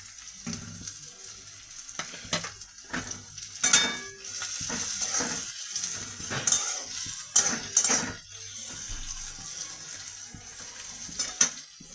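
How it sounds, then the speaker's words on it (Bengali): Garlic and onion fry with salt in a pan, a close crackling sizzle broken by repeated stirring scrapes and clinks of a spatula, rising and falling in bursts with no talk. "রসুনটা ভাজা হলে, অল্প ভাজা হলে পেঁয়াজটা দিয়ে দেবো।"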